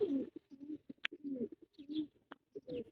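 Pigeons coo in low, throaty bursts, a steady run of short burbling calls close by, with a couple of brief sharper chirps mixed in.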